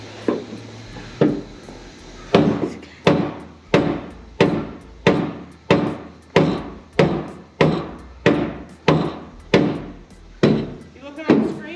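A hammer strikes metal about a dozen times in a steady rhythm during an overhaul of a K5, each blow loud and sharp with a brief ringing decay.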